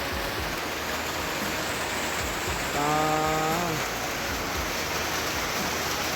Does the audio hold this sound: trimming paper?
no